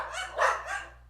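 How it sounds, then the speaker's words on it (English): Dogs bark indoors in three quick, close barks with a rising, yippy middle one, loud and alone over a faint steady hum. "So I apologize for my dogs barking."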